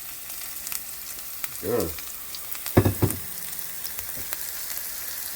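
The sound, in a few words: food sizzling while browning in a pan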